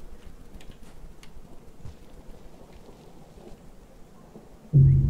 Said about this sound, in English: don't have much time before the rain.